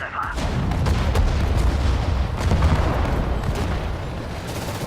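Artillery guns fire in the WWII strategy game Sudden Strike, with heavy booms rolling one into another over a constant rumbling battlefield din that fills the whole stretch.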